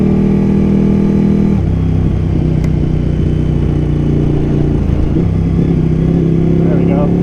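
A Ducati Panigale sport motorcycle engine revs and drones loudly through a downshift with the clutch pulled, a steady close engine roar with shifting pitch and wind noise throughout.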